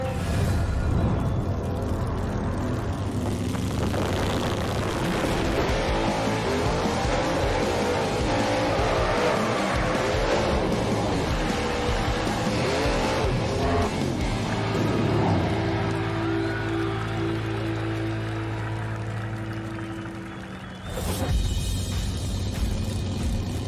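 A 1968 Chevrolet Camaro drag racer called the Reaper gives a loud, continuous engine roar and rumble throughout, rising and shifting in pitch, with a brief dip near the end before the noise returns.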